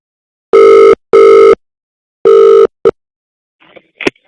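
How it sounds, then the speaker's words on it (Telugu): A phone call rings out with loud, evenly spaced electronic ringback tones, three long beeps and a short blip, then a faint click as the line picks up. "ఆటో డ్రైవర్ రాంప్రసాద్ కి ఫోన్ చేద్దాం"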